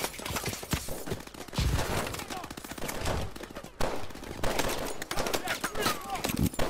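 Gunfire in the first-person shooter Call of Duty: Advanced Warfare, with rapid automatic bursts and repeated shots firing close and loud, over a dense game soundscape with some talk.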